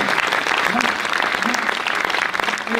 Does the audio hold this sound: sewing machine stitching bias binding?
no